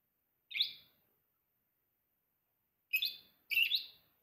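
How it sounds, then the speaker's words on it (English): A bird chirps in the background of a quiet room, one sharp call followed after a pause by two more in quick succession, moderately faint and with no talk. "I apologize for the bird in the background."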